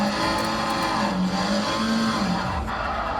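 A car drifts in a sim racing game, its engine droning steadily as tires squeal in long, wavering smears at close range with no talking.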